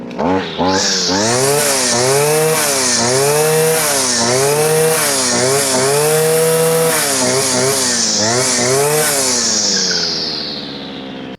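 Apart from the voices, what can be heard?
EFCO DSH-400T engine-powered cutter running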